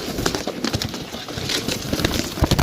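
Pigeons kept for sale near Sarai Alamgir, Jhelum, Pakistan, coo softly amid busy fluttering and shuffling, with scattered knocks and clatter and no talk throughout.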